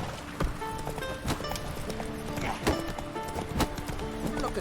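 Hooves of the horse Roach clip-clop in a steady galloping rhythm in The Witcher 3 game, with a whinny and ambient game sounds mixed throughout.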